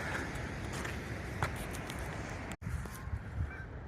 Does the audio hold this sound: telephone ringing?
no